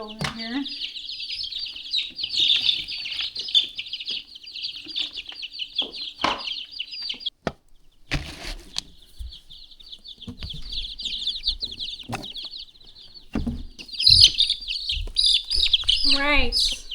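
Young chicks in a brooder beside a hot wood stove peep and chirp almost constantly in bright, high, overlapping calls, with a brief lull midway, while someone talks over them nearby.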